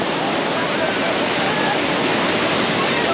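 A steady, loud wash of surf fills the clip, continuous breaking water with no pauses, like waves rolling onto a nearby beach in central Goa.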